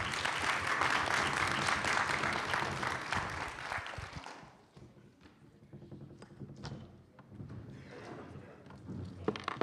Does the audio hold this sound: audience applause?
yes